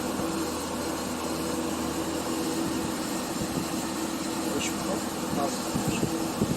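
Commercial refrigerator machinery runs steadily during a gas-level test, a continuous low mechanical hum with a faint tonal whine that holds at an even level throughout.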